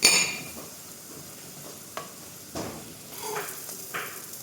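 Spring onion, garam masala, turmeric and chilli powder roast in a pan, giving a soft steady sizzle broken by a few scraping stirs, faint and close, with no talk.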